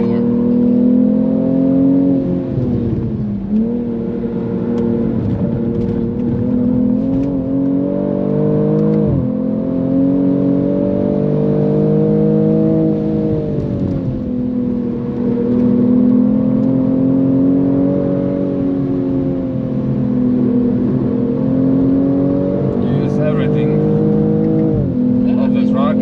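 A BMW M240i xDrive's engine pulls hard under acceleration, rising repeatedly through the revs with sharp drops at each gear change, loud and steady inside the cabin.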